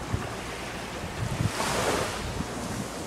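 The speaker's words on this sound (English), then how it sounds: "You can hear the ocean." Ocean waves wash onto a beach in a steady, close surf roar, with gusts of wind buffeting the microphone and a brief swell of louder surge midway.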